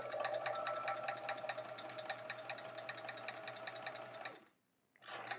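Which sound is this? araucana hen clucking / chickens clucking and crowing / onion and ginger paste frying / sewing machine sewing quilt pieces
sewing machine sewing quilt pieces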